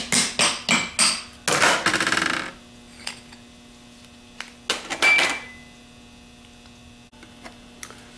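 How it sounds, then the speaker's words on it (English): Sharp metallic taps knock the back lid off a Denso starter motor, a quick burst of strikes and a rattling clatter, then a few scattered lighter clinks over a steady hum. "Then we can just tap the back lid off."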